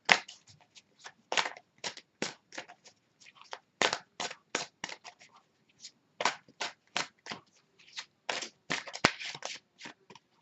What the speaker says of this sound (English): I'll shuffle a little bit more